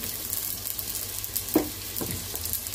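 Sliced onion and green chilli sizzle steadily in hot oil in a pan for an egg biryani, with a brief spoon scrape near the middle.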